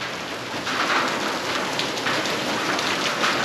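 Steady rain falls outdoors, hissing continuously at moderate loudness, with soft swells and drops in intensity and no voices.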